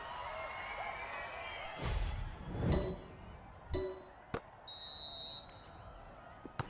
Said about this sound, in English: And that's the final buzzer.